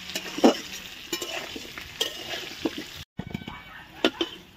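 Potatoes seasoned with turmeric and salt frying in a pan, with stirring scrapes and intermittent sizzling bursts at close range, broken by a brief silent gap.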